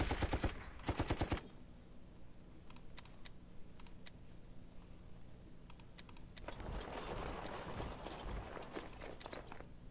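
Rapid machine gun bursts from the Battle of Tobruk scenario in the strategy game Open General open the clip, followed by scattered sharp clicks and a busier clattering stretch near the end, no talk.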